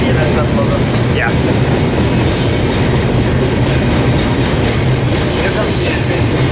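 A BNSF freight train led by a Tier 4 locomotive rolls past near Barstow, California, with loud steady rumbling, clattering wheels and faint squeals close by. Voices talk now and then over the train.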